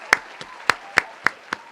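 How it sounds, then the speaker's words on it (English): A handful of sparse, separate hand claps in a slow, uneven rhythm, quiet and thin rather than a full crowd ovation, with no talking over them. "Michael Vick, let's give him a round of applause."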